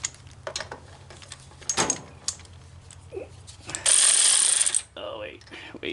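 A socket wrench ratchets on a Cub Cadet riding mower during starter and throttle cable work, giving close, short clicking bursts, with a longer bright metallic whir near the middle and faint background noise.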